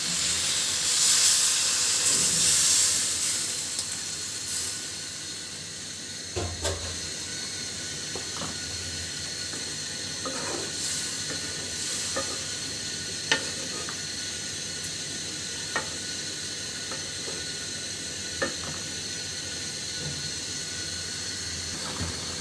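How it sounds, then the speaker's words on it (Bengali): Fish curry with malabar spinach and potato simmering in a covered pot, a steady steamy hiss with faint scattered bubbling pops, close by and alone without any voices. "তরকারিটা কিন্তু মাশাআল্লাহ খুব সুন্দরভাবে ফুটতে শুরু করেছে।"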